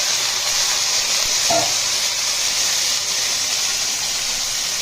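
Sliced potatoes and ridge gourd sizzling and frying in hot oil seasoned with black cumin, a steady broad hiss throughout with a brief stir clatter near the middle, no voices.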